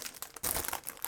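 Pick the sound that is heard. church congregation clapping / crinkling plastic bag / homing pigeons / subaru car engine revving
crinkling plastic bag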